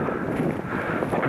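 Wind from the north buffets the microphone in a dense, rumbling low roar that stays steady throughout the short clip, outdoors during an evening hunt in Canada.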